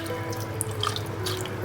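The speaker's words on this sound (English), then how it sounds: "I'll then go ahead and add a little water" Water is poured into a Ghanaian peanut butter soup mixture, a short steady trickle with faint drips over a low hum.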